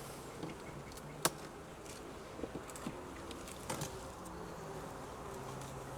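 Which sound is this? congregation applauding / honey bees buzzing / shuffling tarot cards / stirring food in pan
honey bees buzzing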